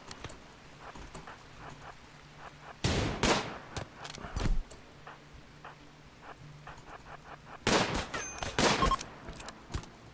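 Bursts of gunfire from the colony-survival game RimWorld crackle in two loud volleys separated by quieter scattered shots, with no talking over the action.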